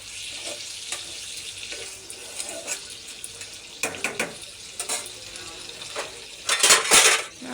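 Goat meat curry is stirred in a pot with a soft sizzle, metal spoon clinks and scrapes against the pot at irregular intervals, and a louder clatter of utensils near the end, close and fairly quiet.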